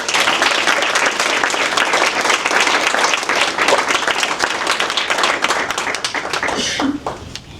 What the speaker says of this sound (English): Please join me in a round of applause for our man's Student of the Month